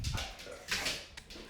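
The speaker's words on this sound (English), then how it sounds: "Sorry, my dog's just fighting." Dogs scuffle in a house, one small dog wearing a cone, with quick yips, whimpers and short barks in brief bursts, fairly faint and close.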